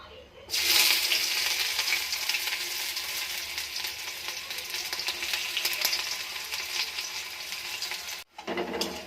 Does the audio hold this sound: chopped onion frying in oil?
yes